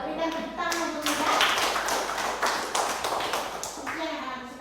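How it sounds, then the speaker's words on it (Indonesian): Classroom applause for a student, with scattered claps and taps from children filling the room at moderate volume, some faint voices underneath. "Berikan tepuk tangan untuk Lydia."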